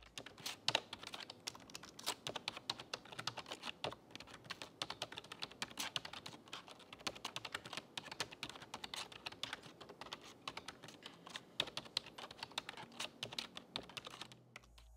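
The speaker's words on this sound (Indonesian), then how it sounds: "contoh suara feedback dari keyboardnya" Rapid, continuous typing on the keyboard of a Lenovo IdeaCentre AIO 3 24ALC6 all-in-one computer, close and crisp, with dense irregular clicks and no voices.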